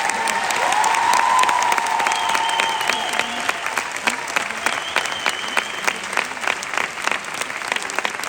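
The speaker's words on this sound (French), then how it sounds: "je voudrais, s'il vous plaît, que vous repassiez un maximum d'applaudissements" A live concert audience on a comedy-music tour breaks into loud, sustained applause, a thick roar of clapping with whistles and cheers rising over it before it thins into scattered claps.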